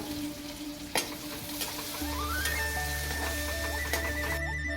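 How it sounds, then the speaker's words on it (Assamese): Onion fries in hot oil with crushed ginger, garlic and two finely chopped green chilies, giving a soft, continuous close sizzle with a few sharp clinks, under a layer of steady background music. "এতিয়া এয়া অলপ ভাজি পিনি পিঁয়াজটো এইটো কালাৰ অহালৈ ভাজিলোঁ"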